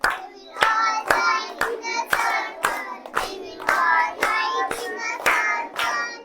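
Hands clapping in a steady beat to the children's poem "We'll all join in a circle", about a dozen sharp, evenly spaced claps over chanted singing.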